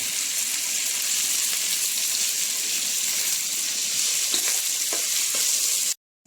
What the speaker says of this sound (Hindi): अब हम इसको भूनेंगे लाइट ब्राउन कलर आने तक।